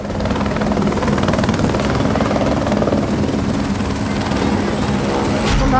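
A rescue helicopter flies over a flood-stricken village beside the swollen Kali river, its loud, steady rotor and engine roar continuous and close for the whole stretch.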